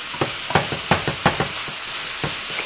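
Browned hamburger being mixed with a few ingredients in a sizzling pan, a rhythmic series of scraping stirs over a continuous frying hiss.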